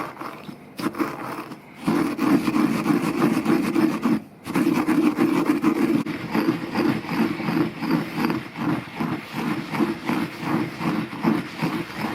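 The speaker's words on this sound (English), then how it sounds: "I'm going to be putting it in a mortar and pestle" Toasted quinoa pounded in a mortar and pestle, a steady run of close, gritty grinding and thudding strokes that carries on almost without pause, with two brief breaks near the start.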